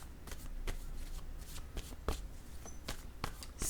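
Cards are shuffled and handled as one is drawn from the deck for a tarot-style reading. The riffling and snapping of the cards is close and crisp, in irregular bursts, with no talking.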